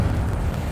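A fiery Incendio spell bursts in Hogwarts Legacy, a loud, dense low rumbling whoosh that fills the brief moment without a break.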